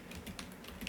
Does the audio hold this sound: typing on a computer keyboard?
yes